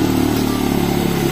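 A motorcycle engine drones close by, a steady mid-pitched hum with faint revving as it rides past, loud and continuous without any voices.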